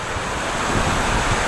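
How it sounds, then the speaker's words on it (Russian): Strong, steady wind in Vietnam's southern coast roaring and buffeting the microphone, with a constant low rumble and slight surges from gusts. "Ветер вообще сильный сегодня"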